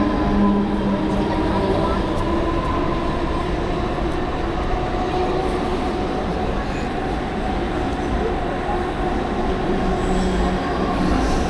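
A Mumbai-area local train runs into Nerul railway station with a loud, steady rumble and wheel noise that carries through the whole stretch. Faint speech sits under it.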